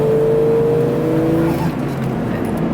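A red Jeep Cherokee XJ with the 4.0L engine pulls hard under acceleration from inside the cabin, a loud steady engine drone with a rising tone that fades slightly toward the end, no talking.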